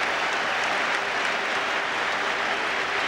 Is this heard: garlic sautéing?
no